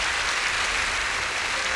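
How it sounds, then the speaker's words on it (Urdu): An audience at a church healing service claps steadily in a dense, even round of applause from beginning to end, with no voices audible over it. "آئیں خداوند یسوع کے لیے پھر تالیاں بجائیں"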